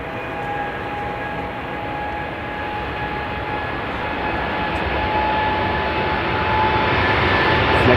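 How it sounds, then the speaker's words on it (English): A United Airlines Boeing 787-8 Dreamliner, eleven years old, departs Amsterdam Schiphol for Chicago. Its engines give a steady, loud roar with thin whining tones on top, swelling slightly toward the end. No voices are heard. "United Airlines going to Chicago. Flight 908, 7878 Dreamliner"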